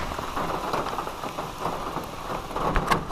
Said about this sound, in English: Rain delay.